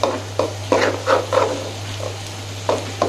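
Food being stirred and sautéed in a pan for a home-cooked fish dish: repeated scraping strokes in a loose rhythm over a soft sizzle, close and moderately loud, with a steady low hum underneath.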